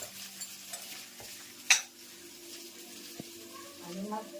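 Mustard-seed tempering sizzles in hot oil during outdoor cooking on a farm, a steady frying hiss with stirring and one sharp clink partway through; faint voices sit in the background.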